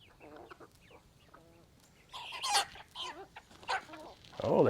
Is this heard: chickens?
yes